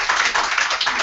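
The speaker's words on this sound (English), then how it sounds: "Give them a round of applause." Applause from an audience at an OrGano Gold team event, a dense, steady patter of many hands clapping close by for about a second, with no speech over it.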